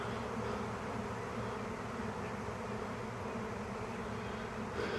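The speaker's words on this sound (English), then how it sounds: "You can see them right here, and thousands of bees." Thousands of bees swarming in the air all around, a dense, steady buzzing drone that stays even and unbroken throughout, close and enveloping, with no voices.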